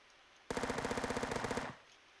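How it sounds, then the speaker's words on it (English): Full-auto Glock 18 fire in a hardcore first-person shooter game: one loud, rapid burst of evenly spaced shots lasting just over a second, then it cuts off sharply into quiet. "This is a Glock 18, which is why it can go full auto."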